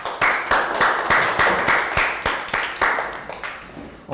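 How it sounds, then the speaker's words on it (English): Children in a Year 3 maths class clap a round of applause, a steady run of sharp, close claps repeating roughly every half second, with no voices on top. "Rounds of applause for our friends."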